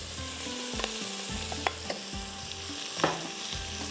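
Boiled chicken and vegetables sizzle loudly in a hot oiled karahi, with rhythmic scraping strokes of a spoon stirring the pan every half second or so and occasional sharp clinks, close and with no voices.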